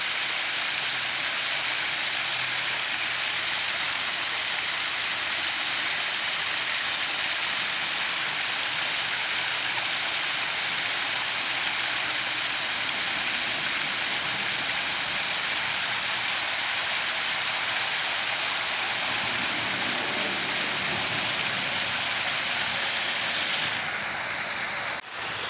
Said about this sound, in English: We're just going to sit here for a few moments and watch the waterfall.